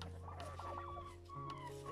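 Orloff chintz chickens cluck softly in a farmyard, with short repeated calls over steady background noise and no talk.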